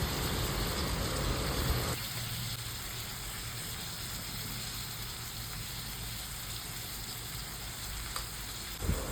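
Tomato with turmeric and salt sizzles softly in a pan, a steady close frying hiss that eases slightly after the first couple of seconds, with faint stirring and no voices.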